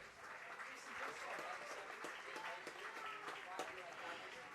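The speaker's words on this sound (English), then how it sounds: "Let's give them all a nice round of applause." Baseball fans in the stands of a Wahpeton Post 20 versus Breckenridge Post 53 evening game give a steady, moderately distant round of applause with scattered sharp claps, lasting throughout.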